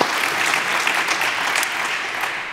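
A conference audience at a keynote applauds the technical staff, a full, steady roar of many hands clapping that carries evenly across the whole stretch with no talking.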